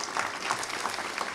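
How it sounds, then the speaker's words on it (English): Faint, brief audience applause at an evening speaker series event, a steady patter of hands in a large room. "Please give them a round of applause as well."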